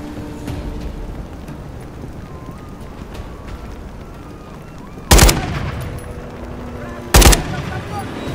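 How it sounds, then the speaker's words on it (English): Call of Duty: Modern Warfare III gunfire cracks out in two loud, sharp single shots a couple of seconds apart, standing out against a quiet, tense background ambience. "There's enemy fire!"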